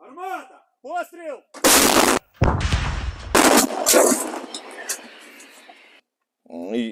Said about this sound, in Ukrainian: вдарити з трофейної російської самоходної артилерійської установці 2С5